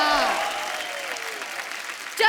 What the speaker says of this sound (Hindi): चलो जी, तालियां बजाओ।